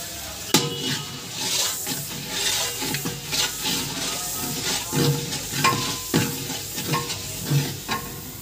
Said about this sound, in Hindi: अब हम इसे एक मिनट के लिए चलाएंगे